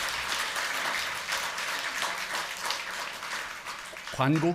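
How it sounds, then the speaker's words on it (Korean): Congregation in a Sunday church service applauding to welcome a young man soon finishing military service, a sustained crowd clapping that fills the room before a voice cuts in at the end. "우리 박수로 좀 환영 좀 했으면 좋겠습니다"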